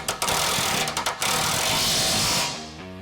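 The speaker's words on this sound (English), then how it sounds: "I love the sound of an impact wrench." An impact wrench tightening a nut while a rear bumper is fitted to a Toyota Tacoma, a close, loud sustained mechanical rattle with a few short stutters near the start before it winds down and stops.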